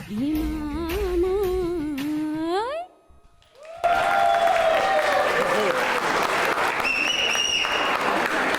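Audience applause for a singer at a Deepavali celebration concert, a dense clapping wash rising after the song's sung ending and a short pause, filling the room at steady loudness.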